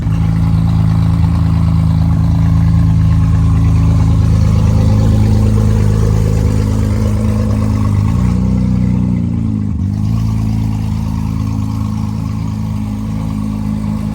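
A 2000HP Nissan GTR engine with its exhaust fallen off drones loud and raw at a steady idle, its pitch dipping and rising a couple of times as it revs briefly.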